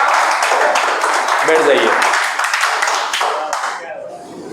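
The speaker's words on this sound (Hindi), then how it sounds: "एक बार ताली होनी चाहिए छोरे के लिए" Classroom applause for a student, dense rapid clapping from many hands close by, fading out toward the end while a voice speaks over it.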